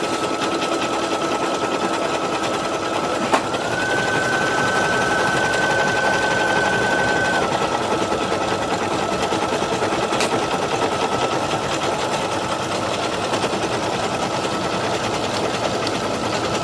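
An embroidery machine stitches an in-the-hoop vinyl design, a fast, steady mechanical whir and needle chatter running continuously at moderate level, with a brief click and a sustained electronic tone partway through, no talking.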